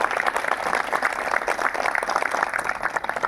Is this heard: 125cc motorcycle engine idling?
no